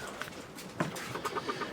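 Leghorn hens cluck inside a coop, a few soft, scattered clucks and short calls against quiet background, faint and fairly close.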